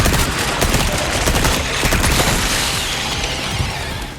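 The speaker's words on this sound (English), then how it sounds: "Let's hit him with the machine gun." Sustained machine gun fire in the Resident Evil 4 remake, Separate Ways, a loud, dense burst of rapid shots with booming impacts, steady for several seconds and then slightly easing off.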